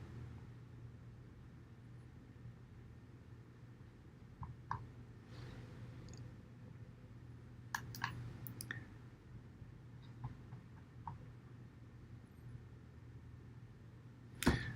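A computer mouse clicks several times, quick and faint, spread sparsely over a quiet room hum, with a slightly louder pair of clicks near the end.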